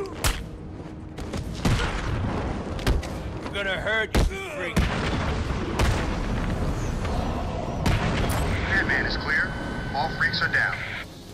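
Bomb blasts in the video game Batman Arkham City, several sharp booming hits scattered among game sounds and character speech.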